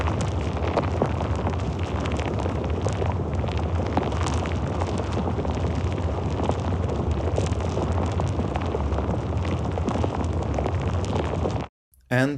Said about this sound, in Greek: a glacier river